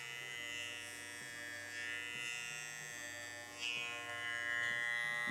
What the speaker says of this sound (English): Every time we close up the clipper, we're gonna work our way lower down that blend.